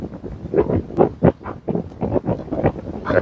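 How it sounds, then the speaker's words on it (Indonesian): Strong wind buffets the microphone in irregular gusts at a scenic seaside viewpoint overlooking the water toward distant skyscrapers, with loud rushing bursts and no speech. "ini bisa dilihat anginnya cukup kencang ini loh"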